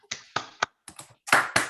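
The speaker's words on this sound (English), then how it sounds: "I propose we have a last round of applause to thank the speakers again." Scattered claps from a small audience thanking the speakers at the close of an online mathematics seminar, a few sharp separate hand claps followed by a brief louder burst, close and sparse with no talk.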